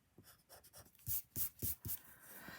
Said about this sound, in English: so then I can erase all of this